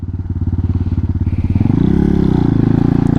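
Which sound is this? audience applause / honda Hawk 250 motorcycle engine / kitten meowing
honda Hawk 250 motorcycle engine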